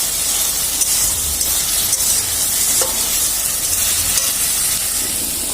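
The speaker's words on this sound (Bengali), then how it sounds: "তো এখানে মশলাটাকে কষিয়ে নিচ্ছি।" Spice paste of ginger, tomato and green chili sautés in a pan with a continuous close sizzle and hiss, broken by scraping stir strokes, with no voices.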